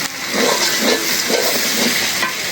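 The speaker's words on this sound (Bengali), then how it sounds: "মশলাটা ভালো করে কষাই শুকনো শুকনো করে" Spice masala sizzling as it is dry-fried in a pan for a chicken curry with ripe tomatoes and potatoes, a loud continuous hiss with steady crackle, close and alone.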